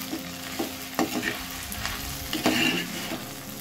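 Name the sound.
okra (lady's finger) being stirred and fried in a pan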